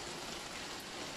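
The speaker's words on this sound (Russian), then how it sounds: "опять начался дождь проливной" Heavy downpour of rain in a garden, a dense, steady hiss of falling water with no pauses or voices.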